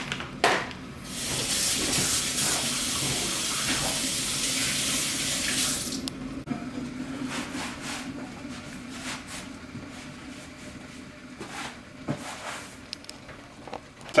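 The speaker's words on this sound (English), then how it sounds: "Bit of hygiene, just going to wash my hands." A water tap runs into a sink for handwashing, a soft steady hiss for several seconds that then stops, leaving faint splashes and small clinks nearby.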